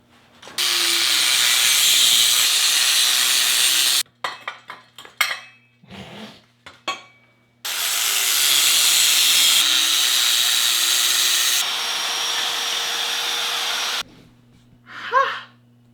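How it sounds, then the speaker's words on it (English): A metal part is cut off a trike's own bike frame to make drift trike pegs, heard as two long, loud, harsh grinding runs separated by close clanks and handling knocks, with no voices. "So we'll just take this, we'll chop a piece off, and then we'll weld it around the nut."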